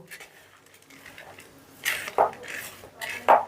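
Basmati rice is worked by hand with ghee in a bowl: soft, faint rustling first, then a few louder scraping, clattering bursts of grains against the dish near the end.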